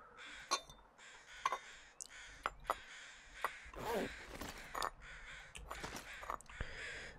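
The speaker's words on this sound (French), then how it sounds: "Ah mon dieu, ces corbeaux, ils vont me rendre fou." Harsh crow caws from The Long Dark, several loud calls mixed with sharp knocking and clacking noises at irregular intervals, some calls overlapping, fairly close with no voices.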